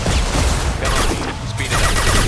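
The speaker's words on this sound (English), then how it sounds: "Concussive shot ready." A concussive shot is fired in the sci-fi video game Space Man Legends, with dense, sustained bursts of loud gunfire and booming impacts filling the whole moment.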